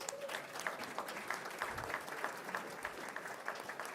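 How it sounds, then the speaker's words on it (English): An audience at a primary election night event applauds quietly but continuously, a soft, distant-sounding patter of clapping hands lasting a few seconds. "Please give them a round of applause as well."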